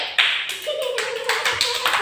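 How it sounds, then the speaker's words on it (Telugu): Children clap in a few uneven bursts in a classroom, close and short, with a voice faintly present. "Very good. క్లాప్స్ కొట్టండి."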